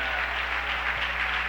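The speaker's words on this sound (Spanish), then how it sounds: "alaba a Dios esta tarde con ese fuerte aplauso" A church congregation gives loud, dense, steady applause in praise during a service, filling the whole moment with no break and no voices over it.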